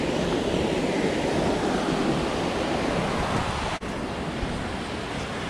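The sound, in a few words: large creek flowing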